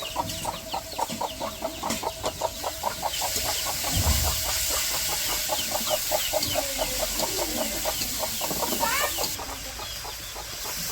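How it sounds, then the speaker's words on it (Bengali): A village hen walks with her tiny chicks; a rapid, steady run of high peeps carries on throughout, with low clucks mixed in now and then, at a modest, even level. "ছোট ছোট ছানা নিয়ে দূর করে দেখতে ভালো লাগে।"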